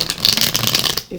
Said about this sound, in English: while I'm doing my shuffling